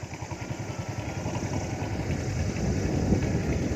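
A motorcycle rolls along a hilly road toward Murree with the throttle released, its engine ticking over in a quick, regular low putter that grows slightly louder, with faint mechanical clatter.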